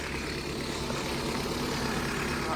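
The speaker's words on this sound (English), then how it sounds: "Engine runs smooth" A Renault Clio engine idles smoothly and quietly, a steady low rumble holding even and unbroken throughout with no voices over it.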